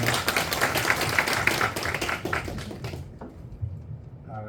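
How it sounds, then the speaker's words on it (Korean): Audience applause at a conference as a professor is welcomed onto the stage, a busy patter of many hands lasting about three seconds before cutting off, followed by a quiet pause and a voice starting to speak. "박수 부탁드립니다."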